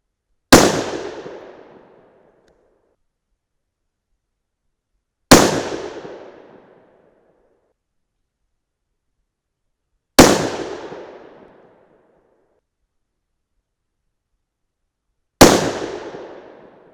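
A 6 PPC rifle firing Lapua-brass handloads: four loud, sharp shots spaced about five seconds apart, each followed by a quickly fading echo, with silence between and no talking.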